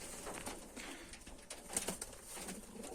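Soft cooing of newly bought pigeons amid a busy, noisy background of rustling and faint clatter, fairly quiet and distant.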